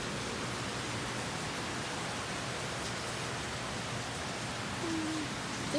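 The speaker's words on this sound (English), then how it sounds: "Because it's raining." Rain falls in a soft, even hiss that stays constant and fairly faint throughout, with a short high whimper-like tone near the end.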